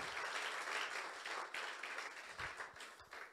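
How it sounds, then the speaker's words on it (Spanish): Applause from a church congregation, a steady wash of many hands that is very quiet and distant, tapering off slightly near the end. "Denle un fuerte aplauso al Señor."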